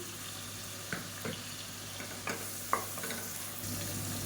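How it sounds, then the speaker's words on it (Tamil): Onion, garlic cloves and green chillies fry in a pan, giving a steady close sizzle with several sharp scrapes and clicks from stirring spread across it, and no talking. "இப்போ எல்லாமே பொரிய ஆரம்பிக்குது"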